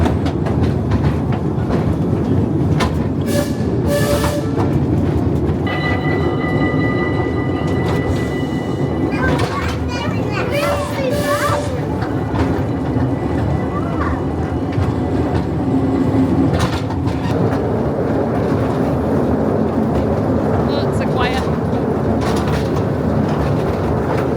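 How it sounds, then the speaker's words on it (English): Steady rumble of a theme park train running on rails, with rhythmic rattling and occasional squeals, people talking over the noise throughout. "So let's go on the train."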